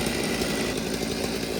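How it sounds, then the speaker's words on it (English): A Stihl 039 chainsaw runs steadily at close range, a loud, continuous buzzing roar with no pauses and no voices over it. "you can hear the saw running in the background"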